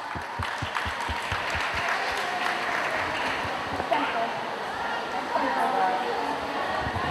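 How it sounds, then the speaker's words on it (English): An audience at a university day English extemporaneous speaking contest applauds the contest winners, a steady sustained clapping with crowd murmur throughout, fairly loud and continuous. "Let's give our winners a big round of applause."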